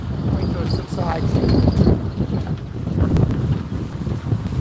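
Strong outdoor wind buffets the microphone in a continuous loud, gusting roar at a carp fishing spot, with muffled knocks and faint handling noise in the gusts.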